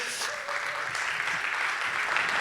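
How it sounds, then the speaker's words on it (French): A church congregation applauds in a steady, fairly loud wash of clapping that carries on evenly throughout. "une bonne main d'applaudissement pour..."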